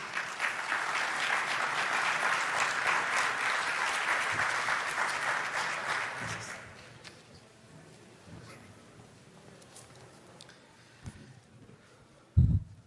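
An audience at a security and evacuation event applauds an architect's arrival on stage with a loud, dense burst of clapping that lasts about six seconds, then fades out, leaving near silence and a brief thump at the very end.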